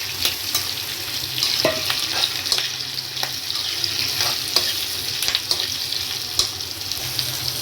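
Onions and capsicum sizzle steadily in a kadai for kadai paneer, with scraping stirs of a spoon cutting through the close, even frying hiss.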